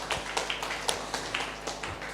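An audience at a mentorship talk applauds with a fairly sparse, steady patter of individual claps, close and moderately loud.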